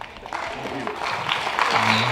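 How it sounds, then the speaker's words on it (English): Wedding guests applauding the speakers, a steady patter of clapping that grows a little louder, with a voice talking over it. "another round of applause for all of our wonderful speakers"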